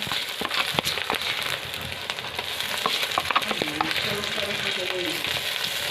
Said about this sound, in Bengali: এবার একটু আমরা নাড়িয়ে নেব ওটাকে যাতে মশলাটা একদম লেগে না যায়